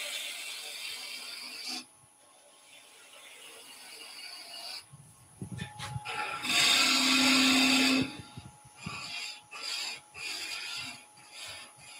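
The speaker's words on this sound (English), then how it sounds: "use that sort of skew cut with the bowl gouge" A bowl gouge makes a skew cut on wood spinning on a lathe, giving a rasping, scraping shaving sound in intermittent passes, loudest in one sustained cut near the middle.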